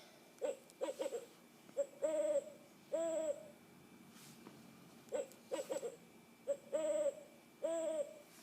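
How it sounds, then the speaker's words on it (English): An owl hoots repeatedly in short grouped bursts, clear and fairly close against a quiet background, with brief pauses between phrases. "Let's hear what an owl sounds like."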